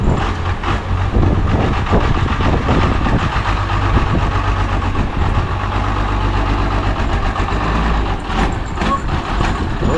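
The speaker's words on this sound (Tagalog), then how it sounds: "May motor. Kanina pa yung motor yan." A motor engine idles near Taal Lake, a loud, steady, close rumble that holds for the whole stretch, with no voices over it.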